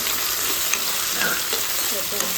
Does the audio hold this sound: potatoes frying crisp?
yes